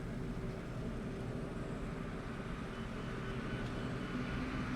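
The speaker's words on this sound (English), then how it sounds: "There goes a airplane taking off right above us there" An airplane taking off overhead in Microsoft Flight Simulator 2024 gives a steady, continuous broadband engine roar with a low rumble, holding at an even loudness for the whole stretch without talk.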